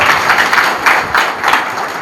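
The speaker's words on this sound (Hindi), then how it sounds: "जोरदार तालियों से आभार।" Loud, dense applause from an audience at a Congress party programme at an Ayurvedic college campus, a continuous wash of many hands clapping with slight rhythmic swells, close and sustained with no talk over it.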